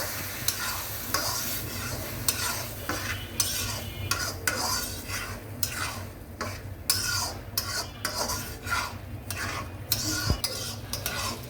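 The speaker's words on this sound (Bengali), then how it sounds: "আমি পোলাও চালটি ভালো করে ভেজে নেব" Polao rice being fried in a pan with a little oil for hilsa polao, stirred steadily with a metal spoon that scrapes and clinks against the pan over a low sizzle, without any voices.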